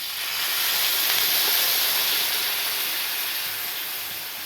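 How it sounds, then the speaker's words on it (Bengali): Water poured into a pan of hot frying curry, a kanchkola-potato jhol, bursts into a loud, close, sustained hiss of sizzling steam that swells and then slowly fades, with no talking. "এইবারে দেখো জলটা দিয়ে দিচ্ছি।"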